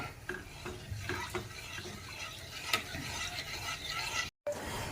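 A simmering, creamy malai kofta gravy being stirred in a pan to thicken it, with steady scraping and bubbling sizzle plus a few sharp clinks of the spoon against the vessel throughout.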